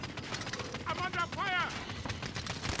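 Video game gunfire rattles in rapid, irregular bursts, fairly loud and close, while a voice speaks over it in the middle.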